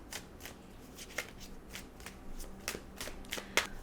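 Tarot cards are shuffled close by, soft riffling flicks and slaps in an uneven rhythm, faint and quiet, with a few sharper snaps as cards are handled and drawn.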